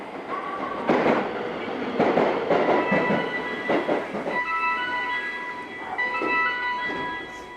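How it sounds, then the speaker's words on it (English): A local train to Kyoto rumbles along with rhythmic clickety-clack from the wheels and some high squealing tones, loud and close throughout. "there's a train in about 2 minutes for Kyoto, a local train."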